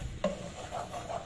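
Spoon stirring spicy chili sauce in a pan as it comes to a boil for crispy fried potato chicken, a scraping, rubbing sound with a few soft clinks, close and low.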